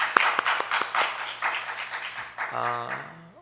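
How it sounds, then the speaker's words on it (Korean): A church congregation claps together during a Thanksgiving Sunday service at a Korean church, with a brief round of scattered applause that fades as a voice speaks over it. "우리 다 같이 박수로 우리 하나님께 영광 돌려드릴까요?"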